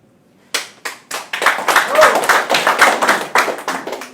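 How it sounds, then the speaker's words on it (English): Audience applause at a direct selling business seminar, starting as a few scattered claps then swelling into steady, fairly close clapping from a crowd for about three and a half seconds. "Are you giving the clap for this guy or for the industry?"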